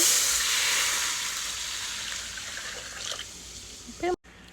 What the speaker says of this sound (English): We add our water now